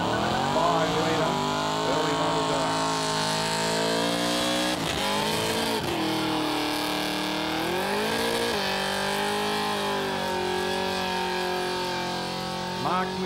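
A General Motors 5-litre car does a burnout at Summernats, its engine revving hard and continuously with rising and falling pitch, loud and close. A crowd and an announcer can be heard underneath.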